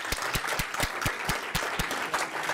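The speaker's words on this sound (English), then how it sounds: "Can we give him a round of applause?" An indoor school board meeting audience applauds a newly introduced middle school principal, giving a short burst of steady, moderately loud clapping from a modest crowd.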